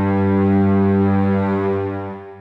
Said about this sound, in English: Second, a cello.